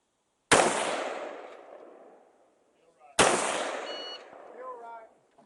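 Two sharp rifle shots at an outdoor rifle match, each a loud crack with a long rolling echo, a few seconds apart; faint voices come in after the second shot.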